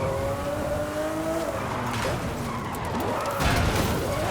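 Engines in the racing game RetroWave whine and shift pitch while tires squeal and skid as the rear slides, a constant loud mix of revving and sliding with no voices.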